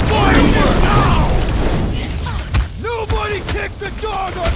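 Booming bursts and pops of fireworks from Rocket's attack in the Guardians of the Galaxy game, loud and layered under game music and excited character shouts, with a few sharp cracks later on.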